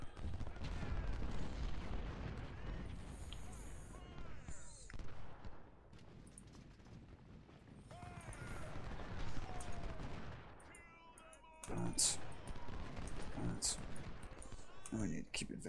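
Dense gunfire and artillery fire from a Union battle at Perryville in the Civil War strategy game Ultimate General: Civil War, with sustained rolling musketry and booming cannon bursts, loud throughout with brief lulls, mixed with faint voices.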